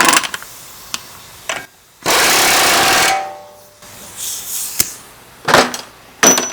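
A power tool tightens the axle nut on the rear wheel of a 2013 Ford Explorer, giving one loud, steady burst of about a second between scattered clanks and metal handling noises.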